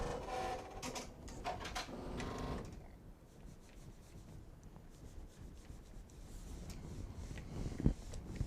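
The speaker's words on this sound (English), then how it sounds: "Turn the sewing machine back on." A sewing machine runs with a fast mechanical whir, quiet and steady, with a few sharp clicks near the start and one near the end.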